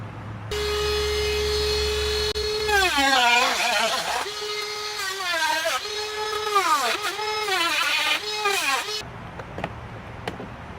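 A power tool cuts into a Honda Civic EF bumper with a loud, high whine that rises and dips as the blade bites and eases off, running for about eight seconds before stopping abruptly.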